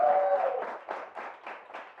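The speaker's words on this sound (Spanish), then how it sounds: "¡Las palmas!" A church congregation clapping hands together at an anniversary celebration, a steady rhythmic pulse of claps heard from a distance and somewhat muffled, with a brief tone at the start.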